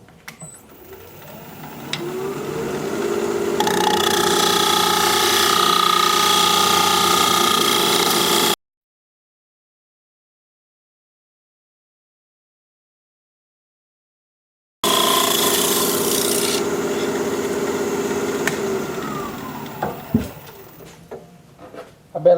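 A woodturning tool is sharpened on a grinder, a steady loud whirring that spins up, holds for several seconds, cuts out, then returns and winds down with a few clicks at the end.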